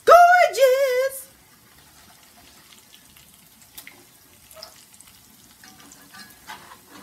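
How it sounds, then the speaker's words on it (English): Hot water cornbread frying in a pan, a soft, faint crackle and sizzle that runs steadily after a short, loud tonal vocal sound at the start. "we're going to let the cornbread finish frying on the other side"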